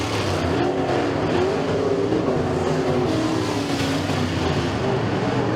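Several race cars roar around a short speedway oval at Stateline Speedway during heat races, a dense, continuous engine din with overlapping revs and passing cars, loud and steady throughout.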